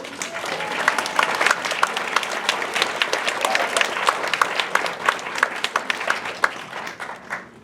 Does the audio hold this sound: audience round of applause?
yes